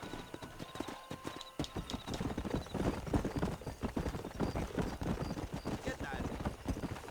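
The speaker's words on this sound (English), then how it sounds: "Gonna have to prove that we're good at riding horses" Horse hooves clip-clop at a fast gallop in Red Dead Redemption, a steady dense rhythm that runs close and loud through the clip, joined by an occasional whinny and players chatting over it.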